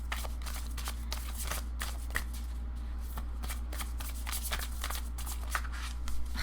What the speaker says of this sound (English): I will just start shuffling.